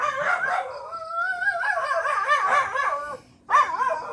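A dog close by gives drawn-out, wavering barks that slide toward howls and whines, with a brief pause before one last loud yelp.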